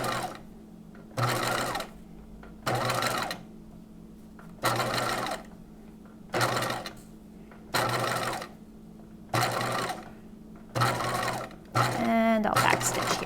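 A sewing machine stitches a Niagara keyhole bodice in eight short, evenly spaced bursts, each close and clear, with brief pauses between them and a quick backstitch rattle at the end.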